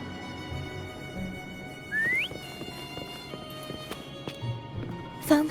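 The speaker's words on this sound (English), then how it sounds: "Try whistling." A rising whistle in a video game calls a horse named Foam, one short upward glide over a background of music and ambience, followed by scattered clip-clop hoofbeats and a soft thump near the end.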